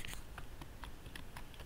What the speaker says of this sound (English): what you do is you type the class name